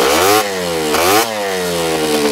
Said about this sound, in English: let's see it rev